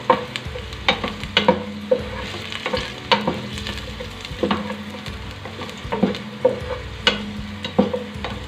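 Spices for chicken yakhni frying in a pan, a loud steady sizzle with rhythmic clacks and scrapes of a spoon stirring roughly once a second.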